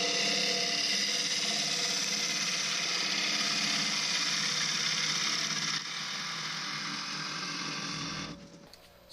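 Wood lathe spinning while a wooden bowl is hollowed, a steady mechanical whir with a rough cutting hiss layered on top, fairly loud and continuous before it winds down at the end.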